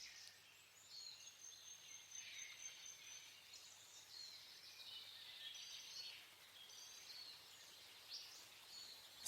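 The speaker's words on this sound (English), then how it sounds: "a chorus of bird calls" Forest birds in New Zealand's ancient forest call in a steady overlapping chorus of thin high chirps and whistles, fairly faint and distant, with no voices.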